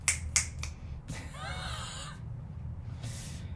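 Several sharp finger snaps crack out close together at the start, loud and dry, followed by a quieter stretch of low hum with faint breathy vocal sounds.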